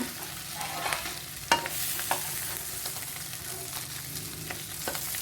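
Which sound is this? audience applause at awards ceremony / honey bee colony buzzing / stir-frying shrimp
stir-frying shrimp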